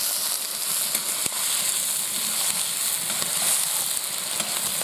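Onions fry in a pot with rendered fat for goulash, giving a steady, moderately quiet sizzle and hiss throughout with no talking.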